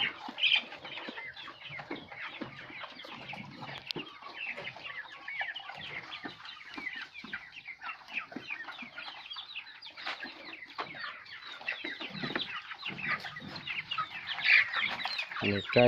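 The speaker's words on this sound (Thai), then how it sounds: "เป็ดบาบารี่" A flock of Muscovy ducks makes dense, overlapping clucking and chattering calls, continuous and close, with no pauses.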